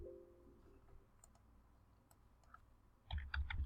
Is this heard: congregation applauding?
no